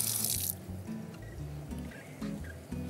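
Running tap water splashes as a potato is rinsed in a kitchen sink, a brief hiss of flow at the start followed by faint drips and low handling sounds, quiet and close.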